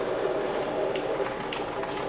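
A train rolling along in Half-Life 2 gives a steady, moderately quiet mechanical rumble with faint rhythmic clicking of wheels, continuous throughout.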